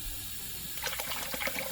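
A sump pump pushing out water while fixing drainage with a rain garden, starting as a low mechanical hum and breaking into a close, gurgling splash of flowing water.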